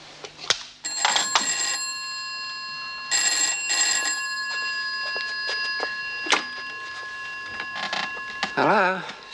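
A telephone rings in repeated bursts, a bright electronic trill, with short pauses between rings and a few clicks and knocks around it.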